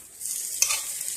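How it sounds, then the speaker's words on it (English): Eggs for an omelette hitting hot butter in a pan, a bright sizzle rising suddenly and continuing steadily, close and fairly loud, with no talking. "I added more butter to the pan just before putting in the eggs"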